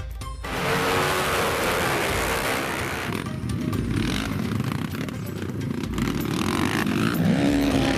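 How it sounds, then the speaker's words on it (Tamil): Motorcycle engines roar and rev continuously, close and loud, with clattering and scraping mixed in as the bikes race past through mud. "சேற்றில் இருசக்கர வாகனங்களை ஓட்டி இளைஞர்கள் சாகசம்."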